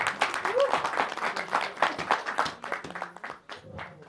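Audience at a stage drama performance breaking into applause, a dense, moderately distant patter of many hands clapping that tapers off toward the end, with some voices mixed in.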